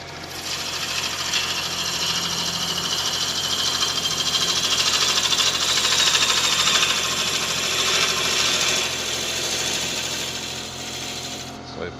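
A blunt gouge scrapes along a Balinese teak vase spinning on a wood lathe, giving a steady, continuous raspy hiss with mild rises and falls in intensity, close and fairly loud, with no voices.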